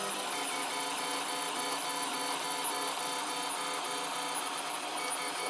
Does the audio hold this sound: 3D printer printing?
yes